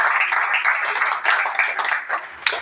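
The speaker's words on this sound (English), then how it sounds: "So big round of applause for them." Audience applause after a team is introduced at a pickleball event: steady, moderately loud clapping from a crowd for under three seconds, fading slightly toward the end with a few sharper claps.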